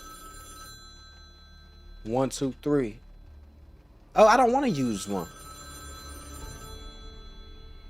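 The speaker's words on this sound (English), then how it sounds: "Bro, answer that damn phone." An in-game telephone rings steadily in a courtroom judge game, its tone running in the background while someone speaks briefly over it.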